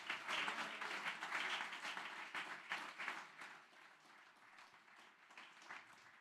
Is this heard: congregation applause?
yes